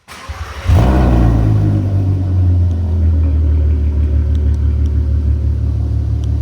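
A VW MK5 R32 engine fitted with an ECS valved exhaust fires up for its first start, a loud close bark that settles into a deep, rumbling idle.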